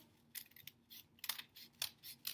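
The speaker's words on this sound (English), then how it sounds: "So now how many are we going to cut through? 3. 3. The scissors are hard with 3." Scissors cut through three stacked sheets of paper, several faint, separate crisp snips in an irregular rhythm in a quiet room.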